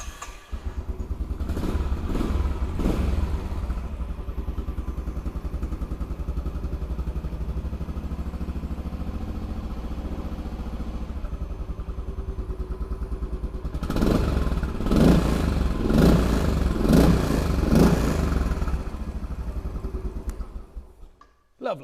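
A Royal Enfield Bullet 500 Trials single-cylinder motorcycle fires up and runs at a steady close idle, its loud thumping beat broken by a couple of blips of revving before it cuts off, with no talking.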